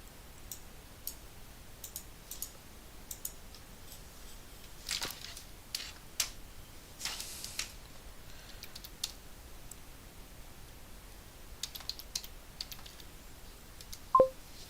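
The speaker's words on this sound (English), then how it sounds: "I can probably type it." Sparse, quiet keystrokes and clicks on a computer keyboard, with irregular taps and short clusters over a faint, still background and no talking.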